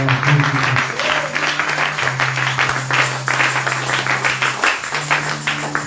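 A church congregation applauds in a steady, dense wash of clapping that carries on throughout, over a sustained low musical tone.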